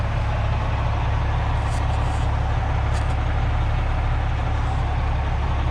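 A 1994 Freightliner truck engine runs at a steady idle, a loud, close, continuous diesel rumble with a deep low throb and no talk over it.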